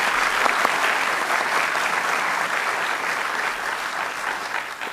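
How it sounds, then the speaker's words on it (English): Sustained applause from a debate audience, a dense, steady wash of many hands clapping that stays loud and even throughout without voices. "A final round of applause for both of them for their excellent debate tonight."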